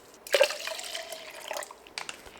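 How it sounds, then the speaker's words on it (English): Water pours into a blender jar holding a quarter cup of hemp hearts, a short splashing rush that settles into a thinner trickle and a few drips, close and fairly quiet, with no talking. "And then add 2 cups of water."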